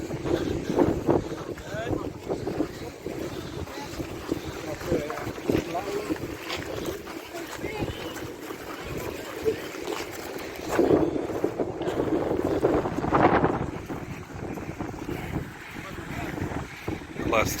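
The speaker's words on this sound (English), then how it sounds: "the waves also smash against the village" Ocean waves crash against the coast at El Golfo, Lanzarote, a continuous rough roar of surf mixed with heavy wind buffeting the microphone, swelling louder in the middle, with faint voices in the background.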